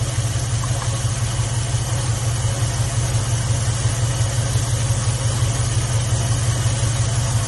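A 1966 Plymouth car engine idles steadily and loudly nearby, a constant low rumble with even vibration and no change in pace throughout.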